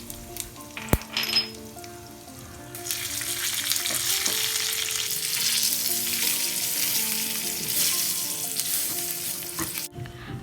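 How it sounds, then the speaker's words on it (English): Mustard seeds, hing and curry leaves spluttering in hot oil in a pan: a loud, dense crackling sizzle that swells after a few clinks of a utensil and runs steadily, close up, with no talking. "Heat some oil in a pan, add in mustard seeds, hing and curry leaves. Let them splutter and fry."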